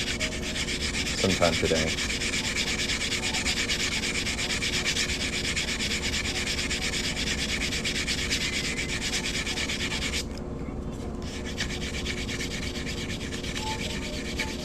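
A quarter coin ring being sanded by hand on nail file blocks, producing a continuous close scratchy rubbing that goes on throughout, with a brief spoken phrase near the start.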